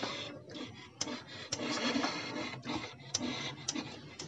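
A Honda Beat Pop eSP scooter's electric starter cranks weakly, giving a continuous raspy mechanical whirr with small repeated clicks and surges over about four seconds, close and moderately loud.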